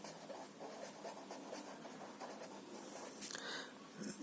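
Pen scratching across paper while accounts entries are written out, a continuous close scribbling texture with small rhythmic strokes, slightly louder toward the end, with no talking.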